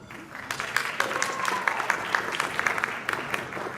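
Audience applause for a Montgomery County council president at a Democratic Party awards celebration: steady, moderately loud clapping from a crowd throughout, with individual claps standing out.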